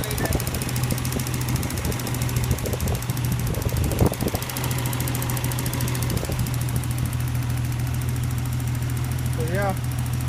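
Turbocharged Nissan 280ZX engine running on Megasquirt fuel management, a steady idle drone with a constant low hum and a brief rev bump near the middle, continuous throughout.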